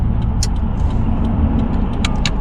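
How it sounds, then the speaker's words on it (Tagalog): Dense night street traffic flows past at close range, a continuous low rumble of car and bus engines with brief hisses of air brakes breaking through. "Ang daming sasakyan, beshi."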